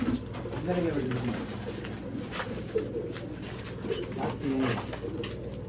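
Pigeons coo repeatedly in soft, low warbling phrases, with voices talking in the background and a steady hum of outdoor ambience.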